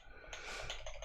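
Fingers type quickly on a computer keyboard during a coding session, producing a fast, soft run of close key clicks with no talking.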